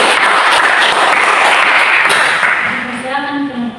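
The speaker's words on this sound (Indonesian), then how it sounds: "berikan tepuk tangan" A classroom group claps for a couple of seconds during a practical session on overcoming bullying, the clapping tapering off as a voice begins speaking at the end.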